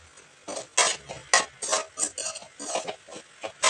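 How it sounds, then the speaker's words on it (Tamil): Egg pepper fry is stirred in a pan, with repeated scraping and tapping of a spoon against the metal in an uneven rhythm, close and fairly loud. "நல்லா கிளறி விடணுங்க."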